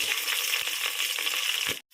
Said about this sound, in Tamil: இப்போ வெண்டைக்காயில் போட்டு நம்ம நல்லா வணக்குறோம்